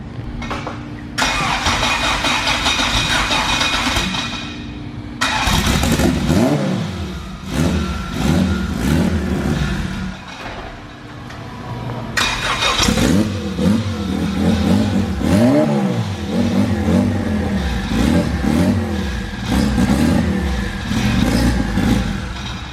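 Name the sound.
Honda Civic engine revving while shifting gears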